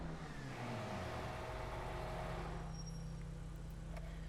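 Engine of the mid-engine Invetero Coquette D10 Corvette in GTA 5 revving, a steady mid-pitched engine drone that climbs in tone and then holds, moderately loud and with no voices.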